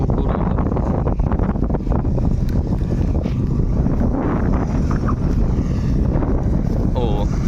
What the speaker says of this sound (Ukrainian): вітер плюха йде